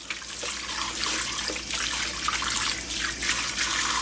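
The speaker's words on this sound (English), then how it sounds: "Rinse it off a second time." Running tap water pours steadily into a sink while a raw pork shoulder is rinsed a second time, a continuous close splashing rush with small shifts in flow and no voices.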